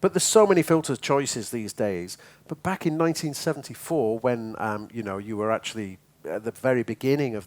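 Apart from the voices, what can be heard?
No everyday noises stand out.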